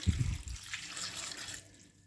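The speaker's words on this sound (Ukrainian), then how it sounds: "щоб з нашої картоплі вийшов зайвий крахмаль, ми заливаємо її водою" Water pours and splashes briefly into a container of potatoes, starting with a few low thuds, then a steady rushing flow that fades out.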